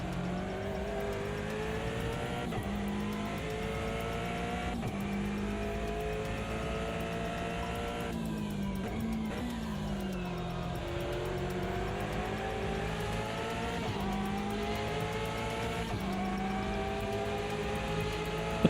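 A Porsche race car engine in a racing video game revs steadily through the gears, with rising and falling pitch sweeps as it shifts and accelerates, loud and continuous without talk.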